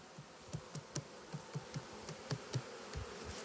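Carpathian honey bees buzz close by at an open hive frame, with a steady drone and repeated soft knocking or tapping thuds in an uneven rhythm.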